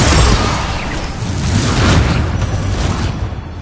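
A Confringo fire spell bursts in Hogwarts Legacy, a loud, sustained broadband blast with a rumbling low end that holds steady for several seconds without fading.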